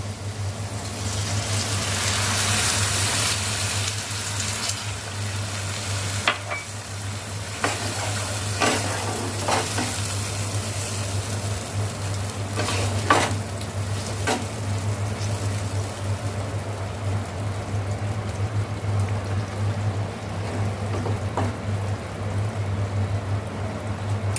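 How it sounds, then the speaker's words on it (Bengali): Prawns cooked in a poppy seed and mustard paste sizzle steadily in a pan after water is added, a continuous frying hiss over a low hum, with a few scattered clinks and stirring scrapes. "এবার একটু জল দিয়ে দেবো"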